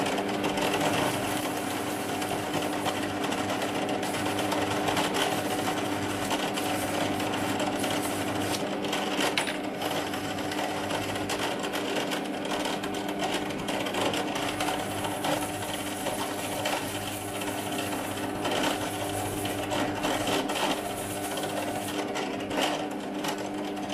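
A brass pen tube spins on a small turning machine while P120 sandpaper rubs against it, making a continuous high whirring drone with a gritty scratching texture that holds steady throughout.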